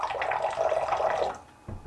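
Bleach pours steadily into water for over a second with a gurgling splash, then stops, followed by a faint knock.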